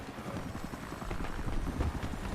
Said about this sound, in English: I'm not doing any good in the passenger seat of a helicopter that's circling our base